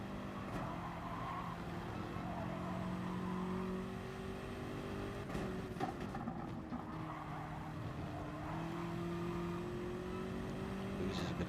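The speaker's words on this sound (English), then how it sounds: "Stick with the Renault as he accelerates off down this long straight." Renault race car accelerating in a racing video game at Brands Hatch GP Circuit, with a steady engine note that rises in pitch and tire squeal mixed in, alongside other cars.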